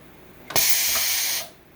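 Automatic grommet machine setting a grommet and washer into Coroplast sign material: one sharp mechanical clunk followed by a loud pneumatic hiss lasting about a second, then quiet.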